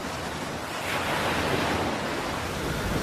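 Stormy open-sea waves churn under steady wind in the deep North Sea waters of the Ormen Lange gas field, a continuous loud roar of surf and gusting air that swells slightly after the first second.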